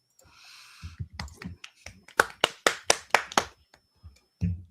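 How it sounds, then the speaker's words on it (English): A sparse audience claps for a first-time speaker at a live show, a brief patter of hand claps that quickly fades, with faint voices and a high electronic tone around it. "So I want you guys to give a warm welcome, nice big applause"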